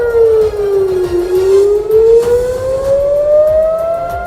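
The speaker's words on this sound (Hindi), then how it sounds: "रात को हवाई हमलों की चीख चीख कर चेतावनी देते सायरन लोगों को भुतहा आवाज की तरह डराते सुनाई दिए।" An air raid warning siren wails over an Israeli city at night, one loud continuous tone sliding slowly down and then rising again, steady and alone with no voices.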